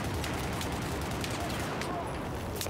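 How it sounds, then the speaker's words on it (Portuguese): Dense gunfire from the Battlefield 4 video game on the Operation Locker map, rapid overlapping shots and bursts forming a loud, continuous barrage with voices mixed in. "Vai rolar tiroteio de novo."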